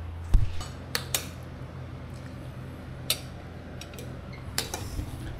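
A small metal casserole pot is handled in a home kitchen, with one sharp knock at the start followed by scattered light clinks and taps at moderate distance over a quiet background.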